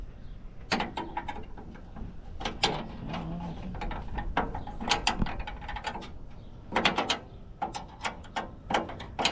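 A hand wrench works bolts loose while a door is removed from a 1972 convertible, giving repeated close metallic ratcheting clicks and clanks in irregular bursts, with some brief louder strikes.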